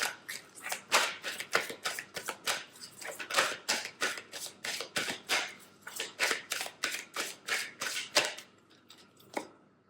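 Oracle cards being shuffled by hand for a reading, a quick rhythmic series of close, soft flicks and riffles repeating steadily with no talking.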